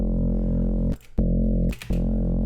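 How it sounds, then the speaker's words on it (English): A sustained low sub bass synth note in Vital with a faint gritty edge from a tiny amount of distortion, cut by two short gaps of near silence. "there's a slight bit of distortion randomization, very, very tiny amount"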